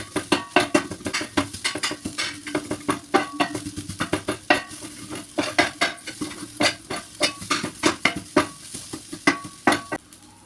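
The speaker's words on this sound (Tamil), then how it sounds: "ஒரு டம்ளர் வச்சு கூட நான் செய்கிற மாதிரி நல்லா கொத்திக்கோங்க" Steel tumbler rim repeatedly chopping idli pieces in a metal pan for an egg idli kothu, a fast uneven run of sharp clanking hits with faint sizzling underneath, close and continuous without talk.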